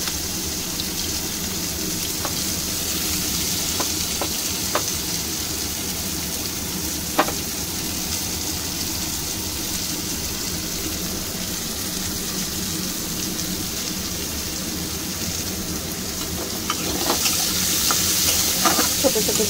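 Chopped onion fries in hot oil tempered with cumin seeds, making a loud, steady sizzle that stays close and even throughout. A few sharp crackles and spits pop out along the way.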